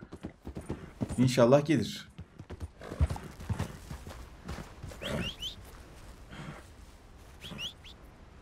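Horse hooves clip-clop in Red Dead Redemption 2 gameplay, a steady rhythmic trot under a man's speech, with a brief whinny and some bird calls in the background.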